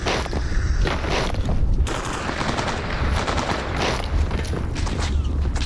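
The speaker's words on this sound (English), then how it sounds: "if these Jagovs are out here pushing me around and threatening me with gunfire" Sustained automatic gunfire in the video game Stalker Anomaly, dense rapid bursts rattling continuously and fairly loud throughout, with a few heavier booms mixed into the barrage and no talk.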